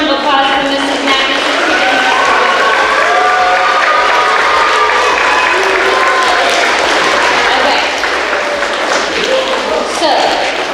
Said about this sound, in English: Let's give a round of applause for Mrs. Knapp.